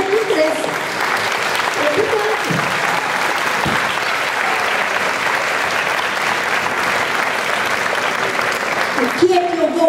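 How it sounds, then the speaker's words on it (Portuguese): Sustained applause from an audience at a solidarity festival against poverty and social exclusion, steady and fairly loud throughout, with a voice speaking briefly near the start and end. "palmas para eles todos"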